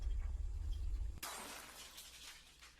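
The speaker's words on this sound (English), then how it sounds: "I'm breaking glass and opening doors, drawers." Glass shatters in one sudden loud crash, followed by a tinkling spray of falling shards that fades over the next second or two, with a low rumble before the break.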